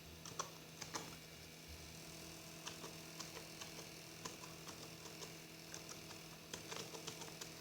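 Typing on a computer keyboard while writing C code in Dev C++, a steady run of close, light key clicks in irregular bursts over a faint constant mains hum.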